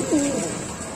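A close dove-like coo rings out near the start from Tiger Mokki pigeons, a pair kept together at a pigeon farm, then fades into a steady background hiss.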